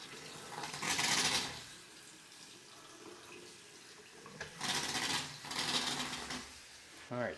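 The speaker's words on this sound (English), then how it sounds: "Release the water. Make sure you don't have any leaks." Water runs from a newly installed sink tap on a floating vanity in two bursts, a steady rushing stream switched on, off and on again, close and fairly quiet.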